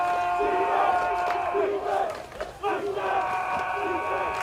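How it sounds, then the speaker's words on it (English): A high school football crowd roars and chants in the stands during a fourth-down play, a loud sustained wall of voices with rising shouts, steady throughout the few seconds. "Got some energy here in the crowd."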